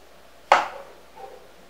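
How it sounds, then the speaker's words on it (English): A knife cuts through fresh strawberries on a cutting board with a single crisp, close chop followed by a faint softer tap, with no talking. "we're going to slice these fresh strawberries"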